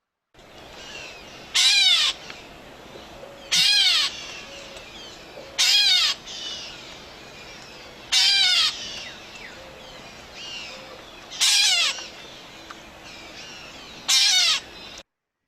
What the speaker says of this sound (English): the reason catbirds get their name actually is from their call